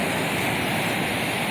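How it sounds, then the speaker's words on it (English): High waves break on a Lake Michigan beach on a windy New Year's Day afternoon, making a dense, steady roar of surf at close range with no voices. "Pretty high waves this afternoon on New Year's Day."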